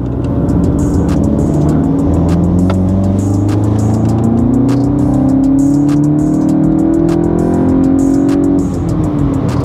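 A VW MK8 GTI fitted with an APR air intake accelerates from inside the car, the engine's loud droning note rising steadily through the gears with faint intake whoosh and brief shifts, without speech.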